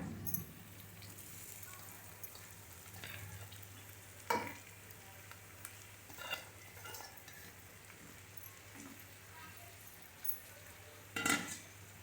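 Poha (flattened rice) sizzles quietly as it is stirred and fried in a pan, with a steady low frying hiss and a few sharp clinks of a spoon against the pan.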